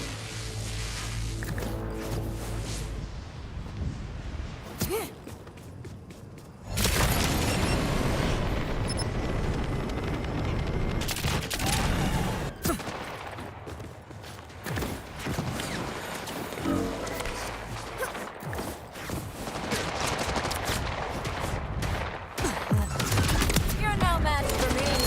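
Rapid automatic gunfire from a weapon in the video game Borderlands 4, played on PC on hard difficulty, loud and sustained with dense bursts mixed with explosive effects and game music.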